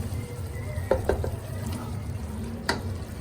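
Soft, steady sizzling of potato and fenugreek bhujia frying in a pan at home, with a few faint scrapes and clinks of stirring over a quiet background hiss.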